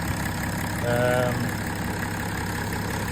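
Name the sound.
BMW M57N engine idling with new alternator, Range Rover P38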